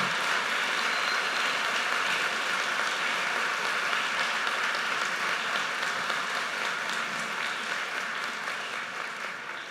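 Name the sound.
audience applause at university ceremony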